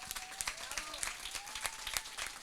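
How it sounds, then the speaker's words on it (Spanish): Applause breaks out at a comics festival awards ceremony, with sharp, uneven hand claps from a modest crowd filling the room for a few seconds, under a faint voice. "que se merece el más grande aplauso como amigo y como guionista"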